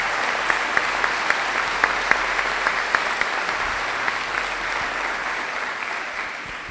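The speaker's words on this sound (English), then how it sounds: "Let's please give a round of applause for everyone who's worked hard to make this day happen." Sustained applause from a large audience at a graduation ceremony, a dense steady wash of clapping with a few sharper claps standing out, continuing for several seconds at an even level.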